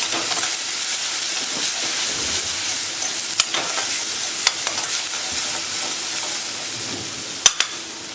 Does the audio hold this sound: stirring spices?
yes